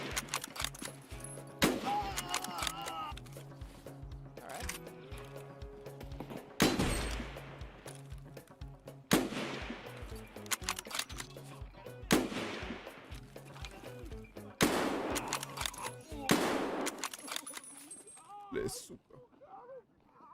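Gunfire from a Mosin rifle in a shooter video game, with loud single shots repeating every few seconds among other scattered in-game gunfire and voices talking over the action.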